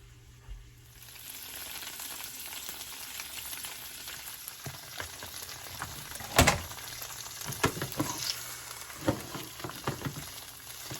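Firm tofu frying in a pan over high heat, a steady close sizzle and crackle with a few sharper pops and spatters along the way, no voices.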